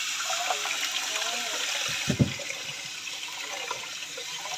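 Tap water running steadily over noodles to cool them, a continuous close hiss and splash with a brief louder gurgle partway through.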